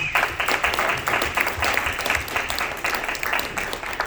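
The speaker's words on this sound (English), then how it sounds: "Can we give Corinne Carl a round of applause?" Audience applause during a tech panel discussion, loud close clapping from a room full of people, sustained and slightly pulsing for several seconds without speech.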